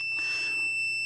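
An Atari ST computer under power repair emits a steady high electronic beep, a single sustained tone that rings clearly above a quiet background and holds through the short stretch.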